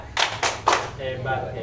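A group claps in a rhythmic cheer pattern at a community meeting, three sharp claps in quick succession followed by softer, looser clapping and voices in the background.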